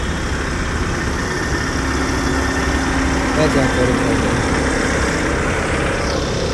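A tractor engine idles steadily throughout, a constant low mechanical rumble with vibration, fairly close and loud, while someone speaks briefly over it.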